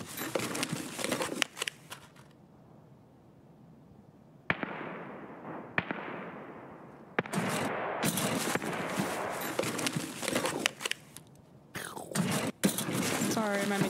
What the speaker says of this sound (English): No, there's gunshots in game.